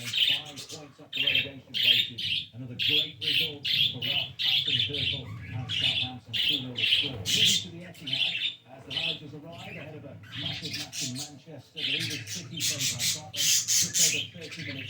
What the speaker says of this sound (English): a little quick video of my birds